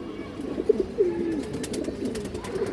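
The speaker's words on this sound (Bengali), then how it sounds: "সাহাশালের একটা বাঘা মাদি কবুতর আছে অনেক সুন্দর একটা কবুতর" A female Bagha pigeon gives soft, low coos over a quiet background, with a couple of brief louder notes near the start.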